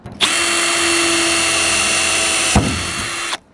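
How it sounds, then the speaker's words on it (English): A power drill bores a pilot hole for mounting solar panels, a loud, steady, close whine running about three seconds with a brief bump in pitch near the end before stopping. "But then he takes a tiny one and he drills a pilot hole."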